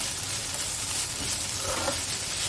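Green chillies and chopped ginger sizzling in hot oil in a home kitchen pot, a steady, soft hiss that continues evenly throughout with no talk over it.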